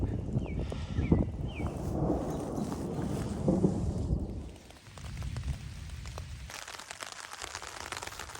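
Steady rain patters on a camping tarp on a hiking trail in the Black Hills, South Dakota, a dense hiss with gusty rumbles that thins out partway through.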